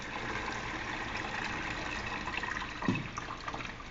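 Coconut milk being strained from grated coconut pulp on a second pass, a soft, steady wet trickle and splash of liquid with a brief louder slosh midway, no voices.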